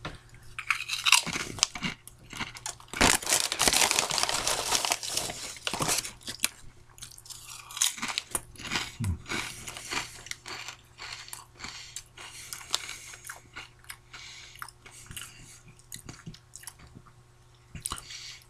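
Utz jalapeno cheddar wavy potato chips crunched and chewed close up, with repeated crisp bites and irregular bursts of crunching spread over a long stretch and no talk.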